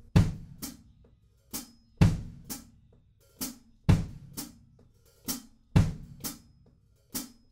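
A slow drum-kit pattern of deep kick thumps paired with sharp hi-hat ticks repeats at a steady, relaxed tempo, played alone.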